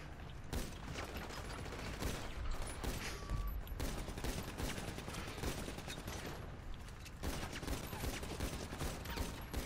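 Dense, continuous bursts of rapid gunfire roar through a first-person video game shooter, with almost no gaps in the loud, crackling barrage.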